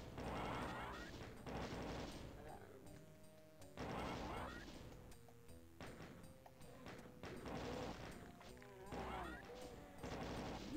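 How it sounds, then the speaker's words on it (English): Plasma gun fire in DOOM II, bursts of rapid zapping shots in several volleys with crashes and explosions between them, loud and continuous over game sounds. "we're using the plasma gun now because I'm running low on shotgun shells"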